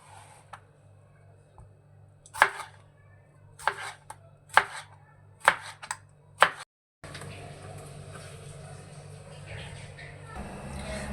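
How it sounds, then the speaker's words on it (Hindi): Two onions sliced into big rounds on a cutting board for a malai kofta masala, the knife striking the board about six times in sharp, irregular chops, followed by a steady background hiss. "ये 2 प्याज में बड़े गोल गोल काटता हूँ ऐसे"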